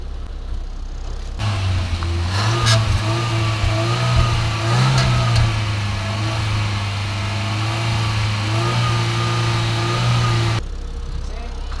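A Toyota Corolla with a 2E engine that smokes and burns oil revs from idle, holding a steady mid-pitched drone with small surges before settling. It is recorded close and loud, with no talk over it.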